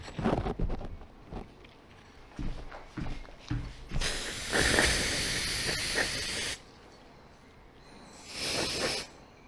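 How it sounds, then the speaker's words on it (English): Compressed air hisses in bursts over a Leica Dimaron projector lens, one long broadband blast of about two seconds followed by a shorter burst, with quiet handling clicks before it. "Some compressed air."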